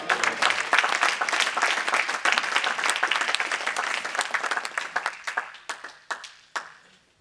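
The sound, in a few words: church congregation applauding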